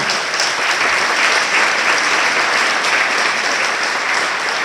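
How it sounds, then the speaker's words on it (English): Steady applause from a crowd at a community awards night, dense clapping that holds at an even loudness throughout with no voices standing out. "So let's give a round of applause to Carly."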